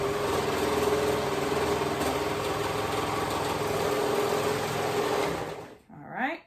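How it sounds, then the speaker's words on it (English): A sewing machine stitches the side seam of a dress, running steadily and close for about six seconds before stopping, with a brief voice at the very end. "So we're sewing that side seam together."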